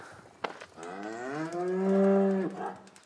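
A single dairy cow lets out a long, low moo that rises and then fades, close by, after a sharp knock at the start.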